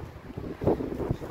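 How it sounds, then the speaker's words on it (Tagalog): Strong wind ahead of a storm in the Netherlands gusts against the microphone in a short burst of low, rumbling buffeting that swells midway and again at the end, with no voices. "Ang lakas ng hangin mga loves. Parating na yung bagyo."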